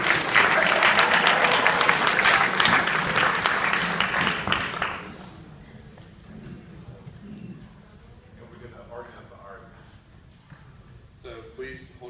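Audience applause at a Summer Ventures in Science and Mathematics certificate ceremony at NCU, a dense burst of clapping for about five seconds that fades abruptly, followed by low room murmur and a few scattered claps.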